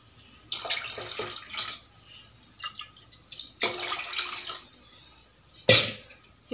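Water poured into a cooking pot for fish curry in a home kitchen, coming as three separate splashy pours of a few seconds each, fairly close and moderately loud with short pauses between them.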